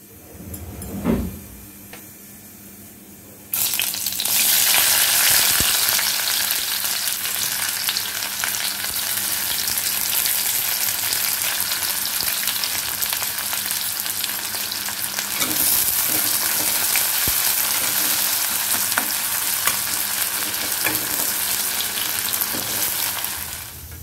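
Onions hit a kadai holding a little oil, turning a quiet kitchen into a loud, continuous sizzle for crisp beresta; the dense hiss holds steady with occasional stirring.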